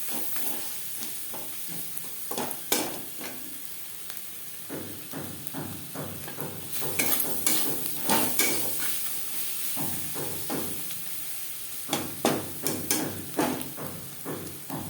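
Chopped onions with green chillies, salt and turmeric fry in a pan, a soft continuous sizzle broken by repeated scraping and tapping of a spatula as they are stirred, close and fairly quiet.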